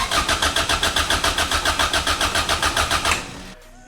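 A Honda CRX with a rebuilt B20 VTEC engine cranks over with a loud, fast, steady pulsing for about three seconds, then the starter stops and the sound drops away to near quiet.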